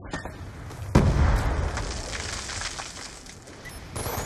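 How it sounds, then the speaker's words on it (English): A grenade blows up in a Black Ops 2 team deathmatch on the Uplink map: one sharp, loud blast with a deep boom, then a long rumbling decay beneath faint game noise and distant shots. "Hostile grenade!"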